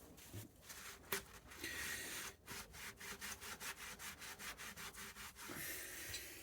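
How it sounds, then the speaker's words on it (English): Brush scrubbing gunk from the gearbox of a Colchester Triumph 2000 TR lathe during an oil change and system flush, a steady rasping rub that breaks into quick repeated strokes near the end. "give it a good scrubbing makes all the difference, and it means all this gunk isn't going to be recirculating around the machine again"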